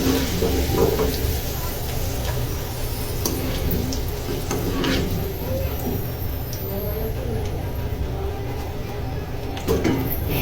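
French fries frying in hot oil, a steady dense sizzle and crackle running throughout with occasional stirring ticks, while a person talks over it.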